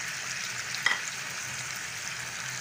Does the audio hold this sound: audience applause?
no